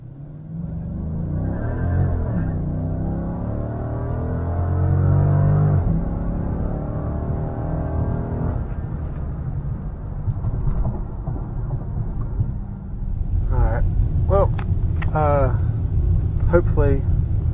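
A 2014 Dodge Charger SRT 392 accelerates hard, its deep engine rumble swelling and rising in pitch from inside the cabin while someone talks over it.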